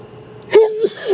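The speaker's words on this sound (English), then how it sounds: "there's another sneeze on its way" A single sharp human sneeze bursts out loud and close, a quick breathy intake followed by a voiced explosive release and a short trailing exhale.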